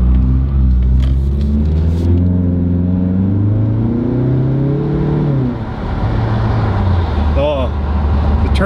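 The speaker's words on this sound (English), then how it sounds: "Turbo noise is just there." Turbocharged Mazda on the road, engine rumble and rising whine held steadily up close, with a voice talking over it and a brief whistling turbo note near the end.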